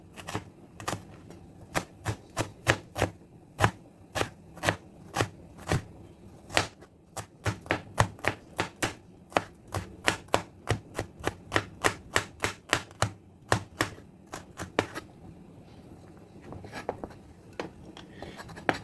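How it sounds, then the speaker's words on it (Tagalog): A knife chops onion on a cutting board in crisp, rapid strokes, dozens of sharp taps in quick runs with short pauses, close and clear with no talking. "Next is yung sibuyas. I-mince din natin ng lodi."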